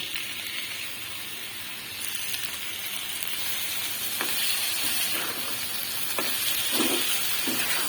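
Kachki river fish marinated in salt and turmeric going into hot oil with fried onion, potato and green chili, a steady hissing sizzle that grows louder, then irregular scraping stirs near the end.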